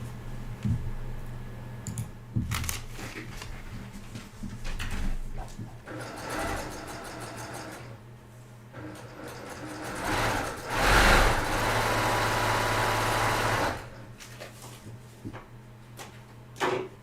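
A sewing machine stitching lines through quilted fabric for a jelly roll coffee cozy, running in several steady whirring bursts separated by pauses and handling clicks, with one louder continuous run in the middle.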